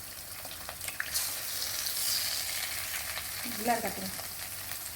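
An egg fries on its own in a pan at the side of the vegetables while egg fried rice is being made. A steady close sizzle is heard with some stirring, and a voice speaks briefly.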